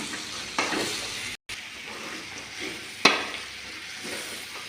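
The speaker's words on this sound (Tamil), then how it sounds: "இந்த நிலக்கடலை பயிர் எடுத்து கொட்டிக்கலாம் நல்லா கொட்டி நல்லா கிளறி விட்டுக்கலாம்" Peanuts poured into a hot pan and stirred, with a steady frying sizzle broken by a few sharper scraping stirs.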